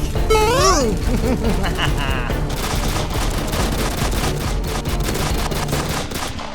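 Rapid gunfire during a Roblox prison game, SCI - Pathos III; a continuous dense rattle of automatic shots runs throughout, with shouting voices and a short electronic chirp near the start.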